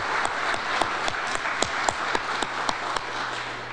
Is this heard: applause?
yes